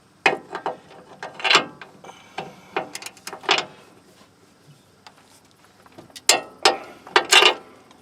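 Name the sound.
ratchet tightening lower shock bolt on Nissan Titan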